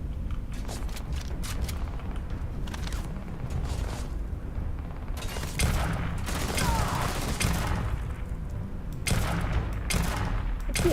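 Enemy gunfire in the video game Starfield: sustained rapid shots and bursts at a fairly loud level, intensifying midway with heavier volleys, a voice briefly heard between them.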